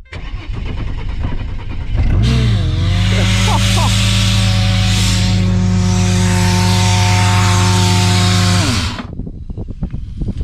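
A supercharged Intech engine cranks, catches and runs loudly with a steady droning whine for several seconds, then cuts off abruptly, leaving quieter clatter afterward.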